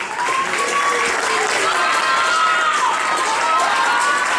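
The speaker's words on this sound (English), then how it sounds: "Give him a clap, everybody" Crowd applauding steadily in the stands during a youth girls' 1500m athletics race, dense continuous clapping with cheering voices mixed in throughout.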